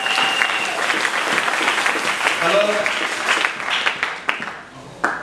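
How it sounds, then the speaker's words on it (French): Congregation applauding during a Sunday church worship service, steady full clapping with a voice speaking over it, the applause thinning out near the end into a few scattered, sharp claps. "Est-ce qu'on applaudit aussi les frères parents?"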